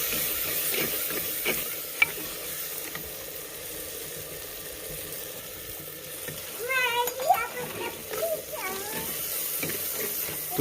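Ginger going into beef cooking for biryani, with a steady sizzle and stirring throughout and a brief metallic clink near the start. Bird chirps come in over the sizzle toward the end.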